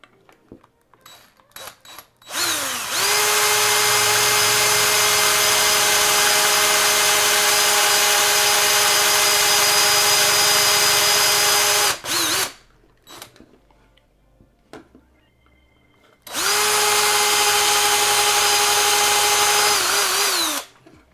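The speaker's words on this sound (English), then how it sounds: "So pardon me while I use the drill again." A power drill whines loudly at a steady high pitch in two long bursts, separated by a pause with light clicks and handling noises, while modding Sony MDR-V6 headphones.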